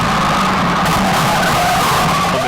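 Stock car at Stafford Speedway spinning out during a race, tires skidding in a continuous loud rasping screech over steady engine roar, up close and sustained throughout.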